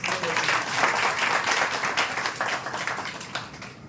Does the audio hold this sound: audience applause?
yes